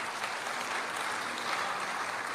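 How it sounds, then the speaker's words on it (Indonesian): A church congregation applauds during a sermon, a broad continuous patter of many hands at moderate level, steady from start to finish with no voices over it. "boleh tepuk tangan buat Tuhan."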